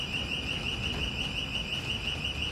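A shop alarm at a mobile phone store rings continuously, a single steady high-pitched electronic tone sounding loud and unbroken over a faint background hum.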